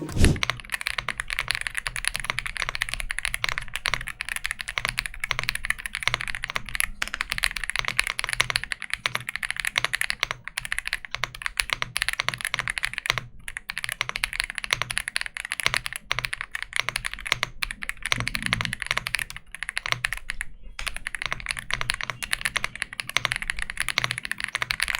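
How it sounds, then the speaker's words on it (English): Continuous typing on an Ajazz AK870 mechanical keyboard, rapid clacky keystrokes with brief pauses, close and crisp. "Okay, now let's go to the sound test."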